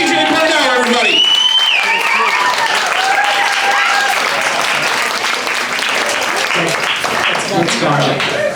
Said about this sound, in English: I'm gonna need you guys to applaud really loud